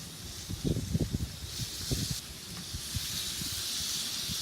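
Sweet and spicy shrimp kabobs sizzling on a Santa Maria grill, a steady hiss of searing with a few knocks and clatters of handling early on, close and moderately loud.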